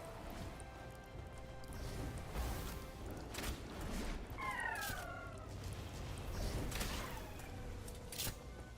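A cat meows a couple of times in the middle of a steady, noisy background, the calls rising and falling in pitch, moderately close.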